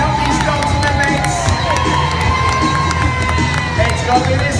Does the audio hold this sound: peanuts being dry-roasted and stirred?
no